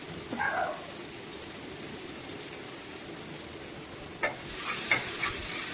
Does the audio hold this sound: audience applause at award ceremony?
no